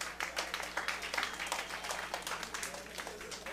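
An open-mic comedy club crowd claps steadily, the applause soft and somewhat distant.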